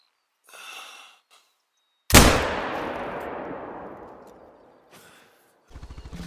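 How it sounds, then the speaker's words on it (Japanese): A single loud rifle shot in the hunting game theHunter: Call of the Wild, a sharp crack followed by a long, slowly fading echo, with brief soft breathy sounds before and after. "そして、撃つ。"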